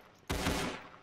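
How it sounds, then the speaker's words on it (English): Burst of automatic gunfire in a tactical team shooter game, one dense rattling volley starting abruptly and fading over about a second, close and loud with no talk. "Machine gun."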